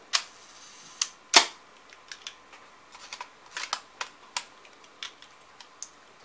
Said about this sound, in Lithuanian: Tada paleidžiam užraktą.